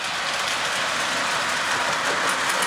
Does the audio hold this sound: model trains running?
yes